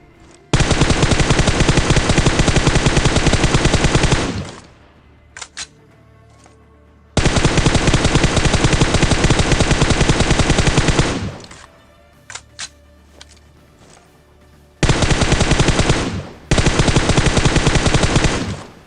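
Long sustained sprays of automatic gunfire in the BGMI battle royale game, three loud dense bursts several seconds each separated by gaps with a few isolated single shots.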